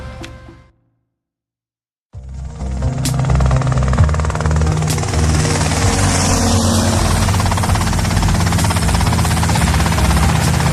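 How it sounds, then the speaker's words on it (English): A helicopter in the Grand Theft Auto Vice City video game: after a brief silence, a loud, dense rotor and engine roar starts abruptly and holds steady and close, with no talk over it. "that's them in the chopper"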